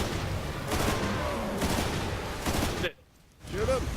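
Bursts of tank cannon and heavy gunfire from the video game Lost Planet 2 sound in rapid, dense succession, then briefly cut out before the noise resumes.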